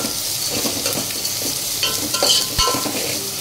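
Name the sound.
stirring ginger garlic paste into onions in pan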